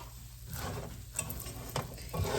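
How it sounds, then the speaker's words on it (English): Caramelized almonds stirred in a pan with the heat switched off, a soft continuous scraping and rustling with faint residual sizzle, close and quiet, no talking. "Keep stirring it so I have the heat off"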